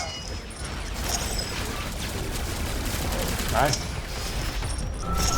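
Sustained automatic gunfire from the sci-fi shooter Alienation pours out in a dense, continuous barrage with mechanical reload clicks, loud and close, while a voice speaks briefly over it.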